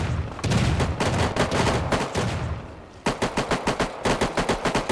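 Gunfire in the Rust survival video game: dense, rapid automatic bursts fill the first three seconds, then a short pause gives way to evenly spaced single shots in a quick rhythm, loud and close with no talk.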